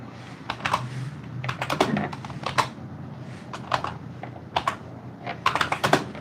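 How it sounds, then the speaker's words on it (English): Fingers type on a computer keyboard in irregular bursts of quick, crisp clicks and clacks, close and fairly quiet, with short pauses between runs. "I got to do a lot of typing here."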